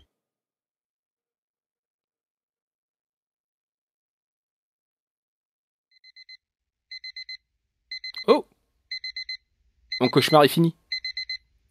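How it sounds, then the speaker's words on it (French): An alarm clock in the video game Dungeon Nightmares 2 rings in repeated short bursts of bright, evenly spaced beeps after a long silence, loud and close, with someone speaking briefly between the rings. "Le réveil sonne."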